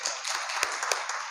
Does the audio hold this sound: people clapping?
yes